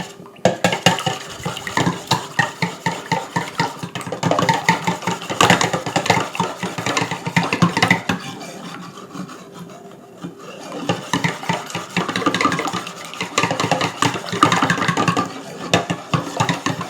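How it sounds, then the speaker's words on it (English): A whisk beats apple fritter batter in a bowl, with quick, loud rhythmic scraping strokes that pause for a few seconds midway and then resume, close up. "I'm going to use my whisk again."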